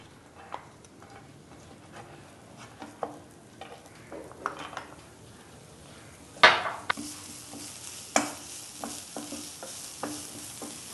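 Chopped onions sizzle in a spoonful of oil in a pan while being stirred, with a steady low fry broken by repeated scraping clicks of the spoon and one louder clatter partway through, no voices.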